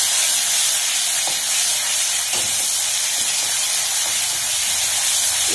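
Garlic paste hits a hot pan for Mithila-style khesari saag jhor, giving a loud, steady sizzling hiss that holds unbroken throughout with no voices.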